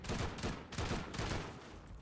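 Gunfire in a video game as a box is shot, several heavy rapid shots in bursts, close and loud, with rattling echoes between them and no talk over it.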